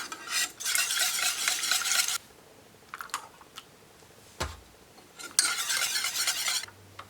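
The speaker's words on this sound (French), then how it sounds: "Et là, on mélange." Hot cream with gelatin and Raibi drinking yogurt being stirred in a bowl: two long, close scraping bursts of stirring with a few brief clinks and taps in the pause between, no talking.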